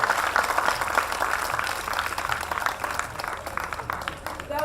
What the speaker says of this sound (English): Please, one more time, give her a big round of applause.